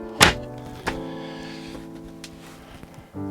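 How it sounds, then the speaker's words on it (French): A cupboard latch in a camper van gives a sharp click, then a thunk as the cupboard door is pulled open. A dull knock follows. A few lighter knocks and rattles close the short quiet interior scene. "Il fait clic, mais quand je tire dessus,"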